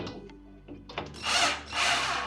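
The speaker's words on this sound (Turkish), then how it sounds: "Şu alttaki ayar vidasını sıkarak bu kapağın alt tarafını içeriye doğru gelmesini sağlayacağız." Powered screwdriver tightening the lower hinge adjustment screw on a cabinet door, a few faint taps followed by two short, close whirring bursts.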